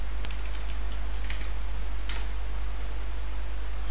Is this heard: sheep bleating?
no